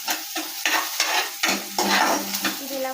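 Green chilli slices frying in oil for chicken manchow soup, with repeated stirring strokes in the pan over a soft sizzle, close and fairly loud, no voices.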